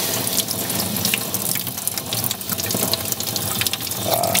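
Water runs steadily from a garage sink tap, a constant splashing rush at close range that stays even throughout, with no talking.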